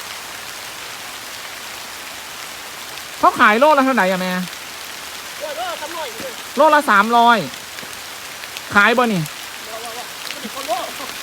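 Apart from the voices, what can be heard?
rain falling in the forest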